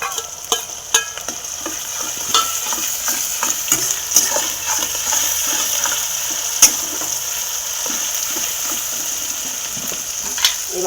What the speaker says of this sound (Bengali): এবার দিয়ে দেবো রসুন বাটা